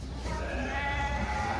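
A lamb on a village livestock holding bleats once in a sustained, wavering cry over steady low background noise.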